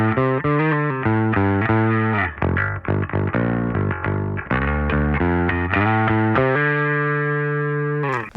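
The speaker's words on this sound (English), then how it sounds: "you'll get this more overdriven sound" A distorted, overdriven bass guitar played through a Darkglass Anagram plays a riff of thick, gritty notes, then holds one sustained note to the end.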